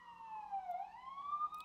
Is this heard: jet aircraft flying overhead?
no